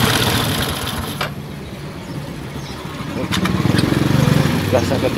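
A Suzuki Smash motorcycle engine struggling to hold idle, a loud close uneven putter that sags and then picks up again, with someone talking over it.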